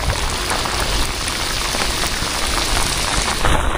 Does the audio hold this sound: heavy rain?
yes